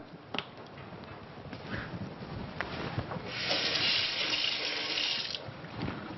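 Tap water runs into a kitchen sink for a short rinse while preparing a chicken salad, a soft hiss rising to a steadier gush midway, with a few small clicks and clatters around it.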